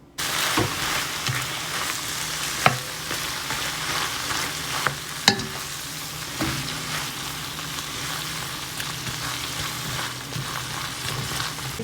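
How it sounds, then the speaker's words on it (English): Frozen shrimp saute in a pan with a steady, close sizzle of frying, broken by a few sharp clinks and scrapes as the pieces are stirred. "I'm just gonna saute these up"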